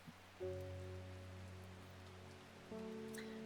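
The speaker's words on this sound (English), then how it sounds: "Does it ever stop raining in Undermere?" Steady rain falls over a quiet scene in the video game Strange Horticulture, a soft continuous patter joined by low sustained tones that swell in twice, with no talking.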